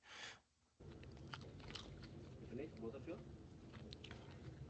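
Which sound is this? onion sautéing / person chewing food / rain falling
person chewing food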